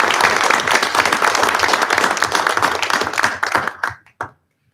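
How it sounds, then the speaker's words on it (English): A round of applause for the class of 2021 at a high school district board of education meeting, many hands clapping steadily in a room, then thinning out to a few last claps before silence. "let's give them a round of applause for class of 21"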